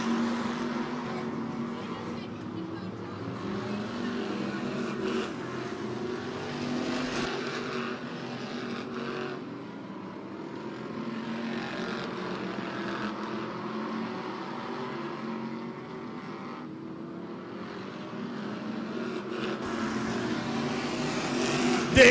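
Stock cars racing on a short oval at Twin State Speedway in Claremont, New Hampshire, a steady loud roar of several engines droning throughout with a race announcer talking over the top.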